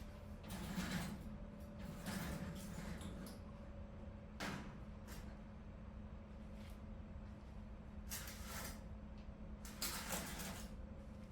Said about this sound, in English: screw the metal bases and the casters using the screws reference